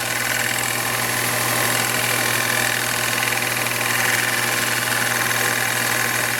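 Lathe turning HDPE with a high-speed steel tool for light cuts, a loud steady motor hum with a dense, even cutting hiss throughout, close and unbroken.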